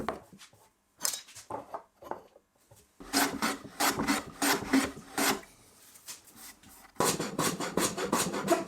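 A hand plane smooths a wooden workpiece in repeated rasping strokes that come in bursts separated by short pauses, close and fairly quiet.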